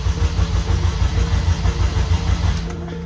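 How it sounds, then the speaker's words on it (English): A modified Honda car engine turns over and catches, settling into a loud, close, rough throbbing idle that continues steadily. "let's start the car up and see if it works then"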